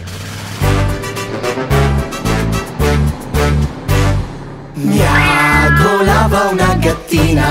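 A kitten's meow sung into a children's farm song, short mewing calls riding over a steady bouncing beat and bass, loud and up front in the music.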